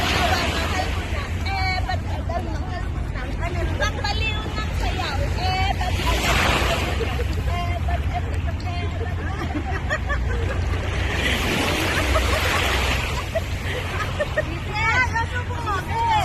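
Seaside drinking gathering on a beach, with a crowd chatting and laughing continuously while waves surge and wash ashore in slow swells beneath the voices.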